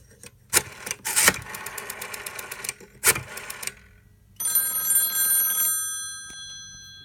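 After a few sharp clicks and knocks from handling, a Western Electric 302 telephone's bell rings close by in one bright, shimmering burst of just over a second, then cuts off.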